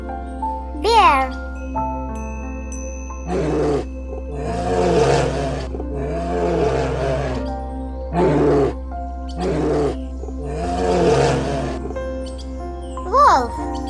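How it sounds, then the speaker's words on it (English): A bear gives a series of deep, rough roaring growls in repeated bursts with short gaps, close and loud, with a low steady hum and brief high tones at the start and end. "Bear."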